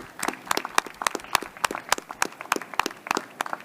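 A small audience at a health tech competition gives a pitch a round of scattered applause, individual claps sounding crisp and close in an uneven rhythm throughout.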